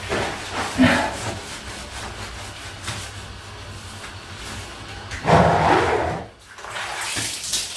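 Running water hisses steadily like a shower spray while washing an eight-month-old Jindo dog indoors, with louder splashing bursts near the start and again around the middle, then a brief pause.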